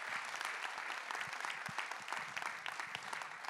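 Audience applause at a conference talk, a steady dense clatter of many hands clapping in the hall, sustained and fairly even throughout with no speech over it.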